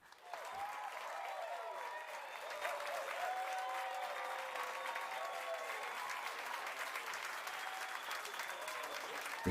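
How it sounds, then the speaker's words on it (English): A crowd gives a big round of applause at a live event, a sustained wash of clapping and cheering that stays steady and moderately distant for about nine seconds. "Let's give a big round of applause for TTVZubZero."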